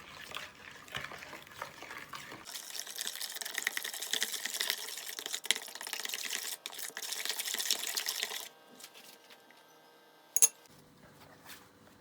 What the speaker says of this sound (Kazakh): Енді араластырамыз.